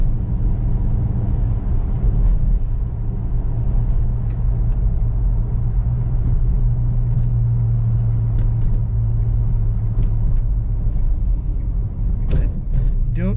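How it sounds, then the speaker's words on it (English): A 1968 Plymouth GTX's 440ci V8 with automatic transmission rumbles steadily from inside the cabin while cruising, a deep low drone with a brief rev near the end, while small clicks and rattles come and go. "Today we're going to take a 1968 Plymouth GTX out for a cruise."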